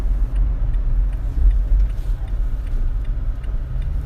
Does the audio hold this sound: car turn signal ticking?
yes